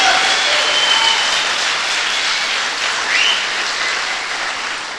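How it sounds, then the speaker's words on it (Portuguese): A church congregation applauds in a steady, dense wash of clapping that holds throughout and eases off slightly at the end. "Se for para aplaudir, aplaude como um vitorioso."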